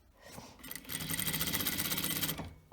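A sewing machine stitches a seam along kimono-style robe fabric, giving a close, steady mechanical buzz that builds in and runs for about two seconds before stopping.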